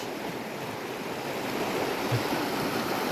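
An overflowing stream rushes along carrying gravel and silt, making a continuous, broad roar of churning water close by, with no voices.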